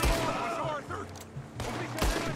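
Gunshots ring out in a Red Dead Redemption 2 shootout, sharp reports at the start and again near the end, with someone talking over the action.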